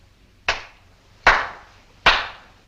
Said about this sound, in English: I clap my hands 3 times,